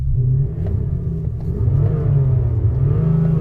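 A Ford van engine revs hard and continuously, a loud, deep low-frequency rumble with rising and falling throttle, close by and with no voices.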